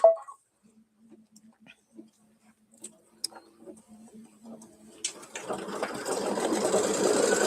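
Computerized embroidery machine stitching out a design: faint sparse ticks and hums at first, then a loud continuous whirring stitch noise starting about two-thirds through and running steadily to the end.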